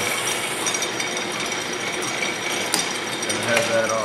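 Drill boring out a brake mandrel on a workshop machine, a steady loud grinding whir of metal cutting with a few brief clicks, with speech at times.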